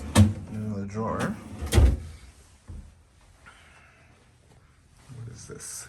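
Hotel room drawer sliding and knocking shut, a few sharp wooden thumps and clacks close by, mixed in with a person speaking in a quiet room.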